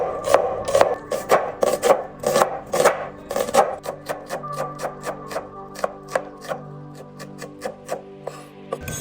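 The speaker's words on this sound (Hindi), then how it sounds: "सबसे पहले हम प्याज को काट लेंगे, ब्रिक स्लाइसिस काटने हमने इसके" An onion is chopped into thin slices on a cutting board, a quick series of crisp knife strikes, closely spaced at first and then slightly softer and more evenly paced, close by with no talk.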